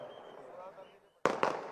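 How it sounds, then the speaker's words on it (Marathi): Firecrackers going off at an outdoor gathering: two sharp, loud bangs in quick succession near the end, following a low murmur of crowd noise. "अरे जे फटाके 16 तारखेला फोडायचे आजच फोडून राहिले"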